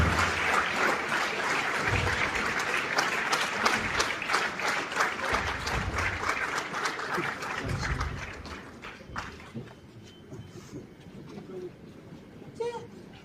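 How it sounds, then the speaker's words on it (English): A crowd applauds steadily at a graduation ceremony, the clapping thinning and fading toward the end, with some voices mixed in. "Keep clapping, keep clapping."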